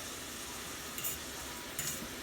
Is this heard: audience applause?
no